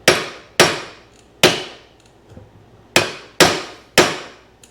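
Six sharp hammer blows drive screws down into wood, each a loud close crack with a quick ringing decay, spaced unevenly with a brief faint tapping in a pause midway.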